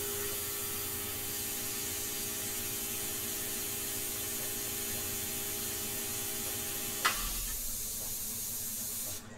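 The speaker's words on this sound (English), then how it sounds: "The detail that you get with this airbrush, Raul, you're gonna be like, why do people s" Steady, close hiss of an airbrush spraying India ink, continuous for most of the stretch over a faint hum, then a sharp click as the flow changes near the end.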